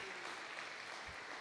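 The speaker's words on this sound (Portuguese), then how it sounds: "Uma salva de palmas para o pastor também" A church congregation at a family service claps for the pastor, steady sustained applause filling the room at moderate loudness, with voices mixed in.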